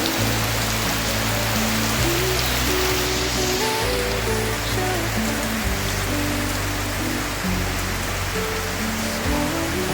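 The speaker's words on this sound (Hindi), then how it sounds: "सुबह से ही पूरा बारिश हो रहा है।" Heavy rain pours down steadily in a constant, loud wash of drops hitting surfaces, with no break, plus a low repeating tonal hum running underneath.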